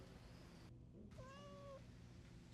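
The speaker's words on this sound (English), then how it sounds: "Then our other kitty cat noise." Cat meow played back as a sampled recording loaded on a Roland SP-404MKII sampler: one clear meow with rising then falling tone, heard alone over a faint hiss floor.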